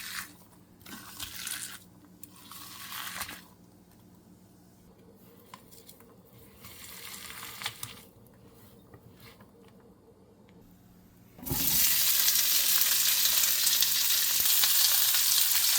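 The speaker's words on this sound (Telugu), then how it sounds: "కొంచెం మీడియం మీద పెట్టి ఇవన్నీ మంచిగా ఫ్రై అవ్వాలి." Chicken pieces frying in a little oil on medium heat in a home kitchen. Quiet pan clinks and soft stirring come first, then a sudden loud, steady hiss of frying takes over and keeps going to the end.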